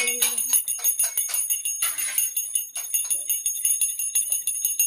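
A small puja hand bell rings rapidly and continuously during a Jagannath puja, its bright metallic shimmer pulsing in quick, even strokes.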